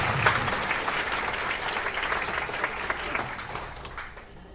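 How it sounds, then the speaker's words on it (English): An audience at an outdoor park concert by a community concert band gives a round of applause for the clarinet section. The clapping is steady and fairly close, then thins and fades out at the end. "another round of applause for the clarinet section, ladies and gentlemen."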